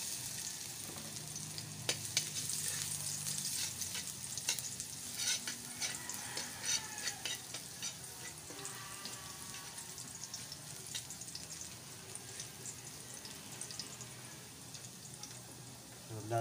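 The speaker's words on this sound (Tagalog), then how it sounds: "gisa na tayo ng bawang" Garlic sautés in oil in a pan at the start of ginataang alimasag, crab cooked with squash and string beans, giving a steady crackling sizzle broken by sharp pops and spoon scrapes throughout, close and moderately loud.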